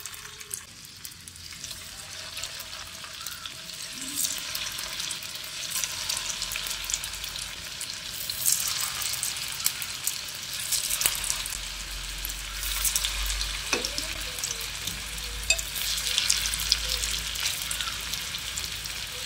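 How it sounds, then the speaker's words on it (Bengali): Soybean balls frying in melted ghee in a frying pan, a steady broadband sizzle that holds throughout, with occasional soft clinks and the quiet crackle of added pieces, no talking. "এবার আমি যে সয়াবিনের মুইঠাগুলো তৈরি করে নিয়েছিলাম সেগুলো একে একে এর মধ্যে দিয়ে দিচ্ছি।"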